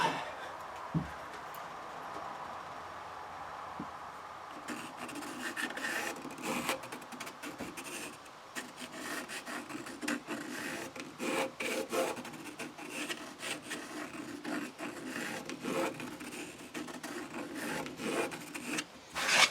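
Faint, rapid scratching and rubbing of a pencil marking wood for a PRS-style guitar build, dragged in repeated strokes, after a few quiet seconds at the start.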